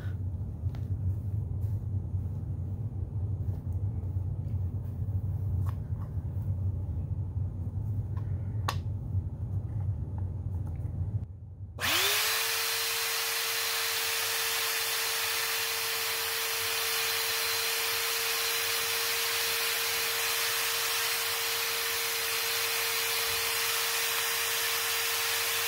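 A repaired Bissell 2191 carpet cleaner starts up about halfway through and runs loudly, a harsh hissing motor roar with a steady whine that holds to the end, after a quieter stretch of low rumble and small clicks.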